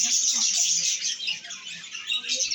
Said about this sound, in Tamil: இப்போ நம்ம லவ் பேர்ட்ஸ் பார்க்கலாம் வாங்க.